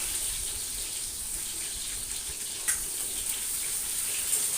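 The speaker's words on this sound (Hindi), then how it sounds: "अब मैं प्याज छोड़ देती हूँ" Chopped onions hit the hot oil in a kadai with a steady, close hiss of frying that runs throughout, brief louder crackles rising now and then.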